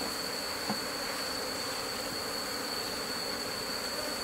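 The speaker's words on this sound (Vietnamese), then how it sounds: "Ong rất đông và rất khỏe." Honey bees from a strong, crowded late-season colony drone in a dense, steady buzz around an open beehive, with a continuous high whine and no voices over it.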